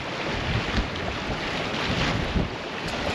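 Wind blows on the River Humber seawall at Paull, a cold, steady roar of gusts buffeting the microphone, loud and continuous without any voices.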